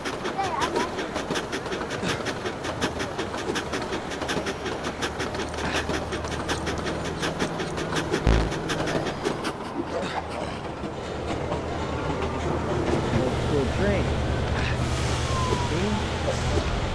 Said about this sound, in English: So is it a new train now?